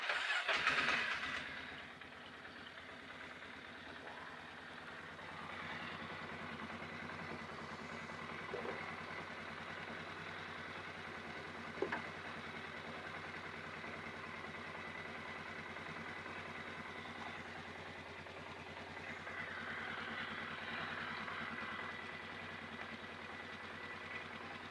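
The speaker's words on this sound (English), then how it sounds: "So we'll fire it up, let it run for a little bit, probably 30 seconds to a minute while we check for oil leaks." A Polaris Sportsman 500 ATV engine cranks and catches with a brief louder burst, then settles into a steady, low idle that runs on evenly and fairly quietly for a long stretch.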